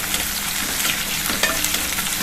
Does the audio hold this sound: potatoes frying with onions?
yes